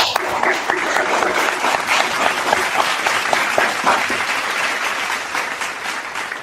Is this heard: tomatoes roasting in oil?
no